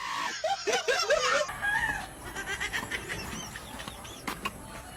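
A chicken clucks loudly and close in a quick run of squawking calls for about a second and a half, then the scene drops to quieter outdoor ambience with scattered faint sounds.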